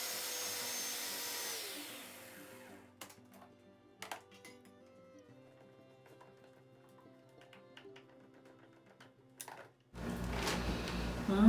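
A kitchen blender whirs loudly as it purees basil and garlic, then winds down into quiet broken by a few small clicks and knocks. It starts up again loud and close at the end.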